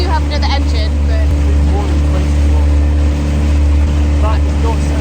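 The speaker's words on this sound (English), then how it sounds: "Sounds like there's a really high-pitched noise, like it's draining" Outboard boat engine off a Scottish island running steadily and loud with an abnormal high-pitched whine over its drone, close and continuous throughout, with voices talking over it.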